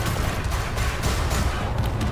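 Class 4 multicannons firing in the space game Elite: Dangerous, a dense, rumbling burst of rapid heavy shots layered over a loud, booming low roar, continuous for about two seconds with no talking.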